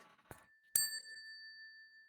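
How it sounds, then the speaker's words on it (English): A bell sound effect: a short tap, then a bright single ding that rings out with a long, clean sustaining tone, fading slowly in an otherwise quiet moment. "we definitely need the bell for that one"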